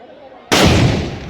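At a Pongal bull-taming festival in Tamil Nadu, after a quiet moment, a single loud Sivakasi firecracker blast bursts out sharply and rings off in a fading rumble.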